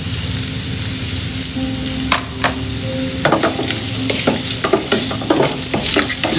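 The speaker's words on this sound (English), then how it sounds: "And I'm going to fry these onions. And the fragrant spices together." Onions and fragrant spices fry loudly in a pan, a close continuous sizzle broken by repeated clacks and scrapes of a spoon stirring against the metal, no talking over it.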